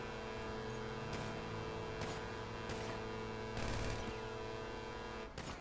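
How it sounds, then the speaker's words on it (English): Gunfire in GTA 5, several sharp shots popping at irregular intervals over a constant droning engine and game background, fairly close and loud. "Who the fuck is shooting at us?"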